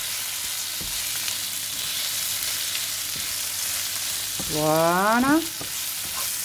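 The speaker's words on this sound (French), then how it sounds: "Je le remue bien pour qu'il imbibe ce jus." Rice frying in juice and stirred in a pan, a steady hissing sizzle with faint spoon knocks, and near the end a short rising tone swells over it; a voice speaks briefly.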